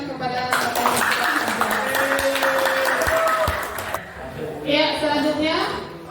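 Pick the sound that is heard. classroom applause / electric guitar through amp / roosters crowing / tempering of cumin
classroom applause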